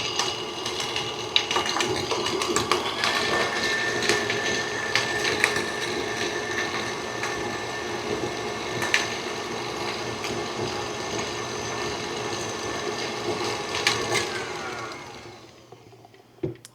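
Butterscotch shortbread cookie batter is beaten with an electric mixer, a steady whirring motor hum with rattling beaters that runs for a long stretch before winding down near the end.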